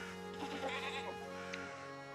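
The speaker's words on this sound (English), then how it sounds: "Guys, we're holding a goat." A goat in the video game Reka bleats twice in short wavering calls, close and moderately loud over a steady background music drone.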